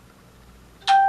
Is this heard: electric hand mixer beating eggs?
no